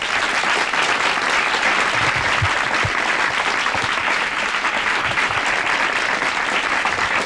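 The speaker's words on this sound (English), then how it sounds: "please join me in welcoming a founding member of the PMRC, Sally Nevius" Studio audience applause at a televised town meeting broadcast from Seattle, welcoming a guest joining via satellite; sustained, dense clapping fills the whole stretch at steady loudness without talk.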